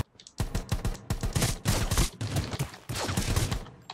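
Dense rapid gunfire from the mobile battle-royale game Rules of Survival, bursts of automatic shots crackling in quick succession, loud and close, nearly continuous for several seconds with brief gaps.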